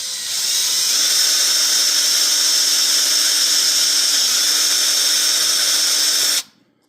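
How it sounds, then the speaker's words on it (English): A power drill whines steadily at high pitch for about six seconds drilling holes in a Squier Affinity Telecaster guitar body, then cuts off abruptly into silence. "Okay, so I'm getting some holes drilled here."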